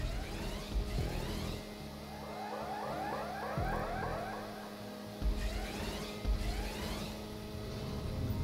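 Video game car engine from GTA V Online, a steady droning motor with shifting pitch as the vehicle drives, plus a few brief louder bumps and revs standing out near the listener.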